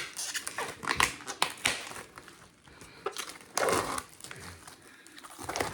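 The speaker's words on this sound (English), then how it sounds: "so we're gonna rip this open" A chicken package being ripped open in a kitchen, bursts of crinkling, crumpling plastic tearing up close in uneven handfuls with short pauses, no talking.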